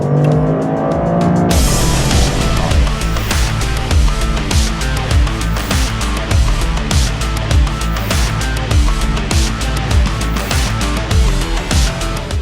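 A Toyota GR Corolla hatchback driven hard at high speed, its engine droning loud and steady with repeated rhythmic gear changes and revving, heard from inside the car with no talking.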